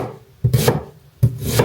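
Knife chopping onion into large pieces on a cutting board while cooking dinner: two bursts of quick, close cuts, each a cluster of several thuds with a gap between.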